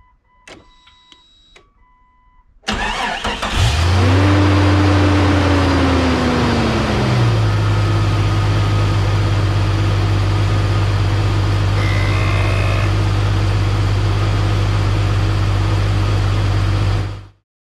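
Jeep XJ engine cranks over and catches, then settles into a loud, steady close idle, with faint clicks before the start.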